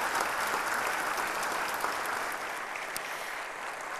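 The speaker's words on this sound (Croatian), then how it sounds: "Pa možda jedan aplauz onda" Sustained applause from a seated crowd at a formal ceremonial session of the Rijeka City Council, dense and steady throughout, fading slightly toward the end.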